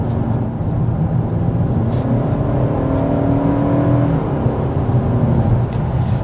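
A 2025 Toyota Camry SE hybrid with an eCVT accelerating, heard from inside as a loud steady engine drone with rising whir and constant road noise.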